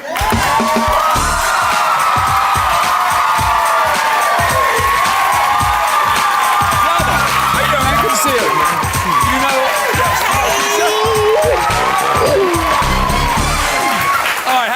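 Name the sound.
studio audience cheering and screaming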